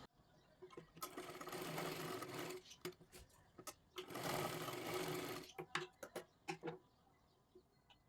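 A sewing machine stitches tucks into a blouse in two loud sustained runs of rapid whirring, separated and followed by short ticks and clicks of handling, close up and without talk.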